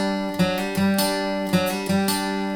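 Close acoustic guitar in bluegrass style: a steady strumming pattern with a hammer-on that lifts the pitch on a bass note within each repeated figure, bright and ringing with no voice.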